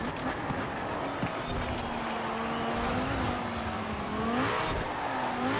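Ferrari 458 Super Speciale in Forza Horizon 4, its engine rising and falling through repeated high revs and gear changes, a sustained close, loud whine under a faint background.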